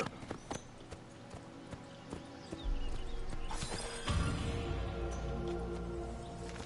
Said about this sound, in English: Actually, I should get on my horse.